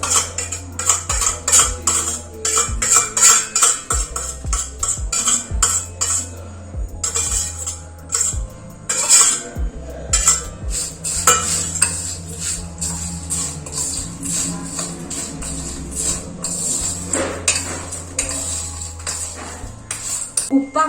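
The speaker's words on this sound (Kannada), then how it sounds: "ಸೊ ಇದನ್ನ ಹಾಕಿ ಮಿಕ್ಸ್ ಮಾಡೋದೀಗ." A spoon stirs Maggi noodles with onion, tomato and chilli in a pan, giving repeated close metallic scrapes and clinks in an uneven rhythm throughout, with no talking.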